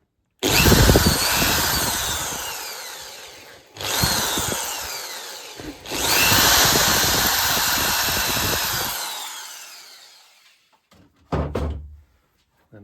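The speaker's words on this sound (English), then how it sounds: "There's a couple of ways of dealing with it when that happens, but by far the easiest is to put the drill back through it." A power drill bores through cork on a model railway baseboard in three loud, sustained bursts of high whining grind, each running several seconds, followed by a few short rattling knocks.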